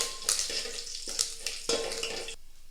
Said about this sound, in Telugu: అలానే కొద్దిగా కరివేపాకు యాడ్ చేసుకుంటున్నాను